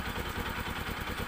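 A Bajaj NS200 motorcycle running on EGB oil gives a brief, steady engine drone with a fine, even pulse, close and moderately loud, with no talk.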